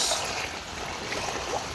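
Fast, powerful typhoon floodwater surging across a road in Occidental Mindoro, a dense, continuous rushing hiss of turbulent water, close and fairly loud, with no talking.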